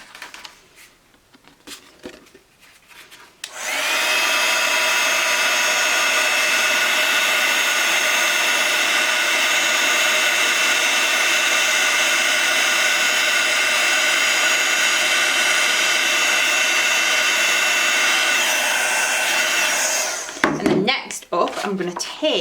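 A heat tool blows hot air over embossing powder on a card sentiment, a loud, steady fan whoosh starting after a few quiet seconds and cutting off near the end, followed by a few handling clicks.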